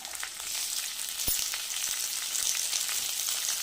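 Tomatoes sauté in a hot pan for carrot tomato rice, giving a steady, close sizzling hiss with a few faint scrapes and taps throughout.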